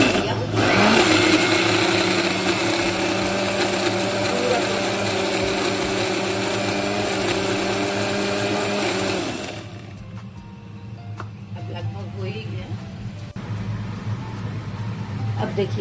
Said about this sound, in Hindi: पूरा मसाला इसमें दे दिया, मिक्सी में एकदम पेस्ट बन जाएगा